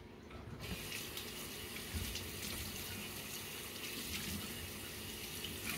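Tap water running steadily into a sink while foundation makeup is washed off, a constant close hiss and splash that starts abruptly and continues evenly with no talking.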